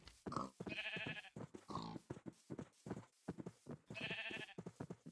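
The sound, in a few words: sheep bleating in Minecraft video game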